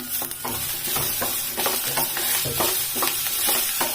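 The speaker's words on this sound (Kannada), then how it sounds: "ಇದಿಷ್ಟು ಚೆನ್ನಾಗಿ ಫ್ರೈ ಮಾಡ್ಕೋಬೇಕು" Chopped onion and tomato frying in a pan: a dense continuous sizzle with rapid scraping stir strokes throughout, fairly loud and close.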